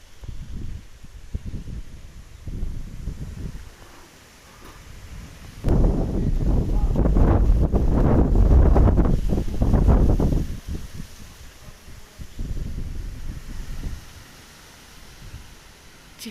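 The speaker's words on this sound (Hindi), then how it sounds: "हवा चल रही है" Wind blows outdoors in a village under cloudy skies, gusting into a loud, rushing buffet against the microphone in the middle, with quieter rustling and someone talking before and after.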